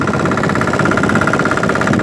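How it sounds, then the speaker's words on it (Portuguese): A Toyama 13 hp diesel engine runs aboard a 5.5-metre jangada raft, chugging loud and close in a fast even rhythm with a rattling mechanical knock and no talk. "Esse motor aqui é um Toyama de 13 a diesel"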